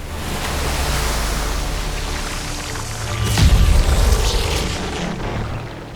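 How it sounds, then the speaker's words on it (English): Wet, gloopy slurp of dog food sliding out of a can, used as a robot disintegration effect, builds from a noisy rush to a sloppy squelching burst midway, then tails off. "one of my favorite sound that me and a few buddies recorded from back when I was doing Foley work, which is dog food slurping out of a can"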